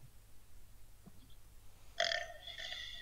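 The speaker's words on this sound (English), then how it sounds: "Stop burping!" A single loud, close burp comes in late and drags on for about a second over quiet background noise, with fainter sounds before it.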